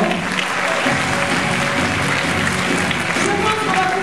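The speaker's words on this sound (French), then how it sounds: "Et je vous demande de les applaudir tous très très fort." A theatre audience applauds dance students at the close of a dance show, thick continuous clapping from a large crowd, with faint musical or vocal tones threading beneath.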